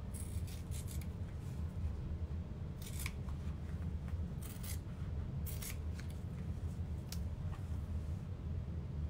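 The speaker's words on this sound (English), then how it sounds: "I'm just making nice smooth cuts on this cork so that there's no" Scissors make smooth cuts through a piece of cork during a sewing project, giving repeated soft snipping and rasping strokes at close range over a steady low background hum, with no talking.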